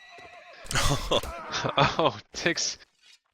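A horse in a video game battle gives a short, high whinny, followed by busy close-up speech and game noise.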